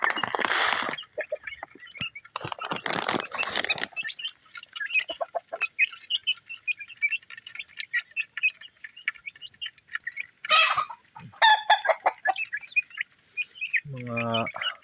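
Backyard chickens with a brood of month-old chicks chirp and peep in rapid high calls, joined by occasional louder bursts and a low cluck, with people talking at times.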